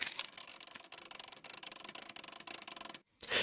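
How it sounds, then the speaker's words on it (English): A cassette tape player that struggles to load tapes makes a fast, rattling mechanical whir, ticking in rapid bursts for about three seconds before a short dropout and a brief restart. "It's this machine winding sound, which actually came from my mum's like cassette tape player."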